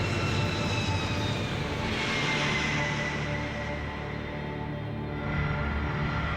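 Four engines of a C-5 Galaxy military transport plane roar in a loud, continuous rumble with a high whining tone, holding steady across the whole stretch without speech.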